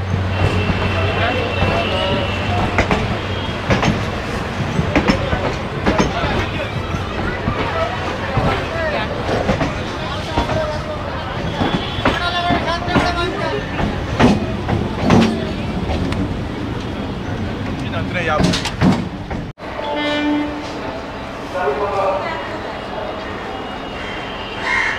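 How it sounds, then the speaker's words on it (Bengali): A local train arrives at a platform in Sealdah railway station, Kolkata, with a continuous rumble and rattling clatter of carriages, loud and close amid station crowd noise and a voice talking. "আরেকটা ট্রেন ঢুকছে, লোকাল ট্রেন।"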